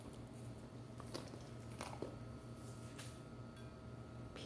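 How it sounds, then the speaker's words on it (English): A dog crunching and chewing peanuts, with a few faint, scattered crunchy bites over a low steady indoor hum. "crunching of peanuts"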